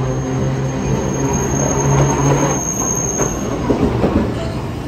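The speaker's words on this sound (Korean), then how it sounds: "이 기자가 오래된 기자니까 가당 가당 가당 가당 가당 가당 시끄러워서 이야기가 하나도 못했어요" An old train car with a wooden floor clatters loudly along the track near a retro hot-spring town, steady rumbling with rhythmic clickety-clack and a squealing wheel tone, continuous throughout.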